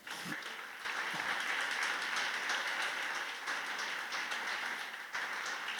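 Steady applause from a church congregation, a dense wash of clapping that holds evenly throughout with a couple of brief dips.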